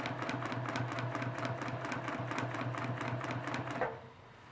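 Sewing machine stitching an outline around a quilted flag on a friendship map quilt: a fast, even mechanical chatter of needle strokes running for several seconds, then stopping abruptly.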